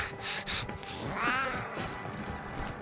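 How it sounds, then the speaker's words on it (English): Cats meowing in a video game, a few drawn-out meows with one prominent wavering cry in the middle, moderately loud against game background sound. "Kitties! Yeah, I got lots of kitties."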